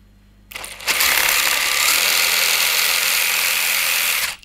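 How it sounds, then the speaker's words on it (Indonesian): Motor and gearbox whine from the transmission of a hobby RC adventure crawler car running, a steady high buzzing drone that starts abruptly, holds loud and close for about three and a half seconds, then cuts off. "Ini bunyi transmission."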